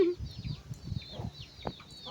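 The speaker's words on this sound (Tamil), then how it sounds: "இங்கே வந்து கோழி மேய்ஞ்சிட்ருக்கு" Chickens foraging around a house yard cluck close by in short repeated bursts, with thin bird chirps and a faint murmur of voices in the background.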